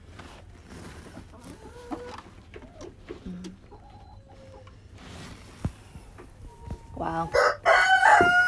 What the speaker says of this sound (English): I might have some good broody hens in here.